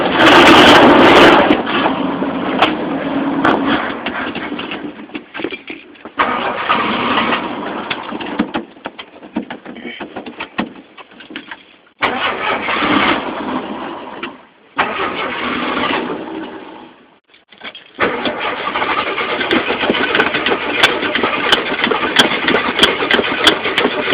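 A carbureted Ford F150 truck engine cold-starts and idles up close, running loudly in rough bursts that repeatedly sag and nearly stall before steadying into a continuous idle.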